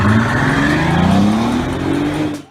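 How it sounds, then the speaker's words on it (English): A Bentley Continental GT coupe with a 6-liter W12 engine roars steadily, a loud sustained engine note with rising pitch as it revs, then cuts off abruptly at the end. "an insanely overpowered 6-liter W12 engine that makes over"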